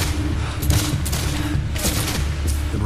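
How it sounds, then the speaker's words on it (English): Rifle volley fire in the Pickett's Charge battle: a dense, continuous crackle of many rifle shots with sharper bursts standing out, loud and close, no talk. "One fence they're using for cover takes 836 rifle shots."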